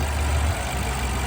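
A white 2014 BMW 750Li M Sport with a brand new engine idles steadily, a deep, even rumble held close and constant throughout, with no voices over it.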